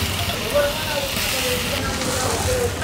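A rocket stove fire roars steadily with a dense, rushing hiss, loud and constant, with faint voice traces underneath.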